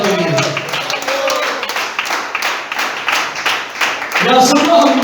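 A church congregation claps in dense, uneven applause, with voices mixed in around the clapping and a louder swell near the end.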